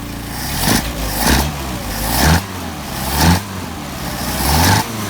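A Mercedes 190SL with Solex carburetors revs repeatedly, each swell of engine rising and dropping back in roughly one-second pulses, close and loud, with no talking.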